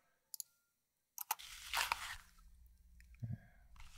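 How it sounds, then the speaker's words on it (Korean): A crisp, crunchy bite into an apple, recorded close and clean as a sound-library effect: two small clicks, then a loud tearing crunch, then softer wet chewing with no talk. "사과를 이렇게 무는 소리입니다."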